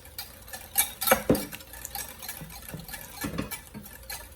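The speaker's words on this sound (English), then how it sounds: "Whisk these well together." Sugar, heavy cream and milk whisked together in a bowl for crème brûlée, quiet irregular clinks and scraping taps of the whisk against the bowl, no talk.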